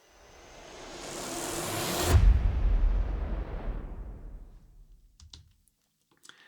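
Two layered orchestral hits swell into a massive booming impact, its long Reynolds Hall reverb tail washing out over several seconds before near silence and a couple of faint clicks.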